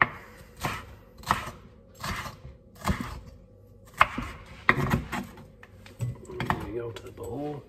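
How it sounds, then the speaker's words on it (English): A knife chops red pepper into pieces on a board: a series of crisp, close knocks in a steady rhythm with short pauses, then quicker, busier cuts, with a voice speaking briefly toward the end. "So we got the red pepper, cut them into pieces."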